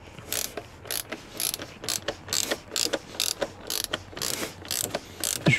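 A ratchet tightens the oil filter housing on a Seat Leon 1M TDI 150 ARL during an engine oil change, giving a steady run of close, sharp clicking strokes in quick repeated bursts.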